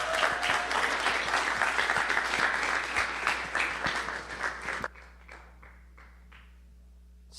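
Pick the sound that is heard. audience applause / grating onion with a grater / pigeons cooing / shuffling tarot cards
audience applause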